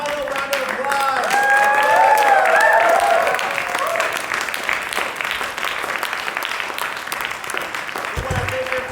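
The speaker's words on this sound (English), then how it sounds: "Final round of applause." Audience applause closes a comedy festival show, steady dense clapping from a crowd that stays loud throughout, with a few whoops and voices rising over it early on.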